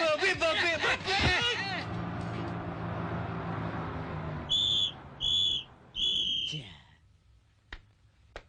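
Three sharp, shrill whistle blasts in a row over busy street noise with a crowd talking, then the traffic fades.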